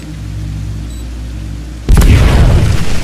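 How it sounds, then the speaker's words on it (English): A C4 charge detonates in the Aliens: Dark Descent video game, a sudden loud, heavy boom bursting in after a low steady hum and rumbling on for about a second before fading slightly. "That explosion will sure attract some company."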